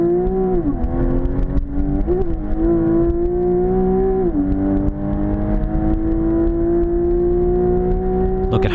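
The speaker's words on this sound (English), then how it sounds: "I'm going to share with you a hot lap driven by one of the Porsche instructors" A Porsche 911 Carrera S engine howls steadily through a hot lap on a race track, with a few quick dips and rises in revs as it shifts and changes speed, loud and close throughout.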